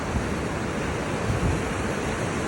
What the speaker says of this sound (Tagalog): ganyan kalakas ang alon